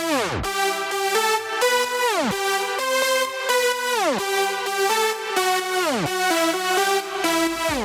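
An unfiltered synth lead from a festival remix plays bright, stabbing notes with downward pitch glides at the end of each phrase, repeating in a steady rhythm with no voices.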